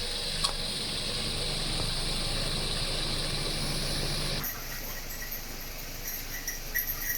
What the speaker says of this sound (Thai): เสียงเครื่องยนต์เสียงการทำงานคอมเพรสเซอร์อยู่ในเกณฑ์ปกติทุกอย่างนะครับ